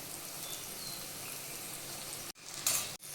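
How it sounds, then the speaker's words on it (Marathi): Masala-stuffed eggplants sizzle loudly in a hot pan, a dense, crackling fry heard up close, broken by two brief pauses and a sharper spitting burst near the end. "आता आपण ते भरलेली वांगे टाकूया मसाल्यानं."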